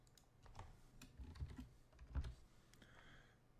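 Typing on a computer keyboard while entering a type name in LabVIEW code, a quick, irregular run of close, light key clicks with a few firmer taps, heard alone over faint room noise.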